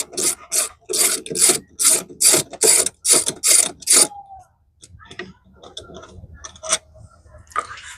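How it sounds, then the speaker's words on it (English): A ratchet turns a 10mm socket to remove a bolt on a 2008 Ford F-150 during an idler pulley replacement: about ten loud, evenly spaced rasping strokes, then scattered small clicks and handling noises. "grab a 10mm socket and remove this bolt right here"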